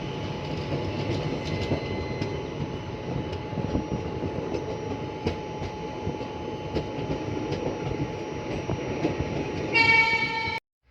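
Sabarmati Express train standing at Mehsana station, a steady loud rumble and hum of the locomotive and carriages with faint rail clatter, ending in a brief horn blast before cutting off.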